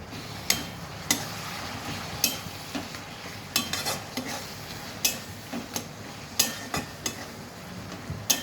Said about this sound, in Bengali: আর জিরে, ধনে, আদা বাটা দিয়ে সব মশলা ভালো করে কষাবো।